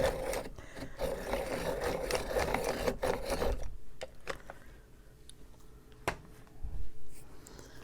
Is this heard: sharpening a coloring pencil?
yes